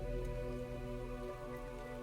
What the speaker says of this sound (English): Just the rain slapping the rocks on the ground outside and wetting the old faded wood of the door.